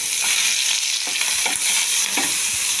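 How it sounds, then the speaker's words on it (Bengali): Prawns frying in a pan over a tempering of cumin, bay leaf and dried chilli for moong dal, a loud, dense, continuous sizzle with soft stirring sounds, no voices. "চিংড়ি মাছটা দিয়ে একটু ভেজে নেব"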